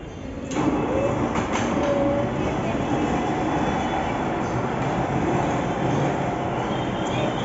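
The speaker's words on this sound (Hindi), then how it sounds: "बेटा देखो ट्रेन चल रही है इतनी बड़ी।" A large train, at a busy Mumbai station where coal transport runs, rolls past close by with a loud, steady rumble and rattle that continues without a break.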